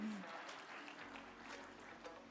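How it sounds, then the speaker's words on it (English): Applause from an audience at a tech summit and awards event, steady and moderately loud for a couple of seconds, with a faint voice briefly audible underneath. "Can we have a round of applause for Ms."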